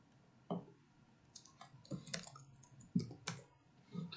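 A computer keyboard is tapped in short, separate clusters of light clicks, quiet and close, with gaps between bursts and no one talking.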